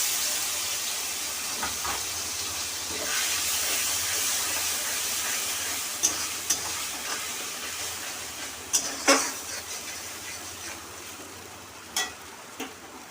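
Spice paste hitting hot oil in a pan for a Bengali jackfruit chorchori, a steady soft sizzle and hiss with occasional sharp crackles and stirring clicks, close and moderately quiet.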